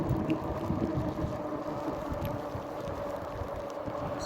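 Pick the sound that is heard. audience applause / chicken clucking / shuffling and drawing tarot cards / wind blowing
wind blowing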